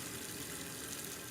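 Water runs steadily from a sink faucet during hand washing, a quiet, even hiss and splash that holds without break throughout.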